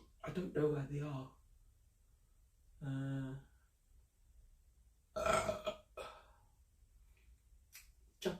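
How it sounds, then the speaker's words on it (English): Several deep, voiced burps come after a meal of Japanese food, three separate bursts spaced a few seconds apart, close and fairly loud against a quiet background, with brief talk between them. "Japanese food, man, it makes you burp both ways, downstairs and upstairs."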